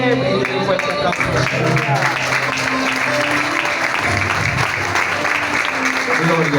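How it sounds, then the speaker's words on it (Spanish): A church congregation during a sermon breaks into loud, sustained applause, dense clapping filling the room at close range with voices mixed in. "Bendito y fuerte aplauso."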